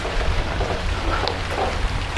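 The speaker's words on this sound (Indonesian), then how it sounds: "Waduh, hujan lagi." Rain falls steadily on an outdoor garden plot, a dense, even hiss with a low rumble that holds at a constant loudness throughout and carries no voices.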